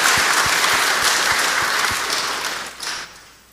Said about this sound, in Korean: 우리 성가대 위해서 큰 박수 다시 축복하고 격려하겠습니다.